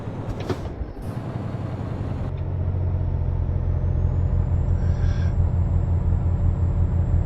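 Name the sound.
truck engine over-revving in Euro Truck Simulator 2 video game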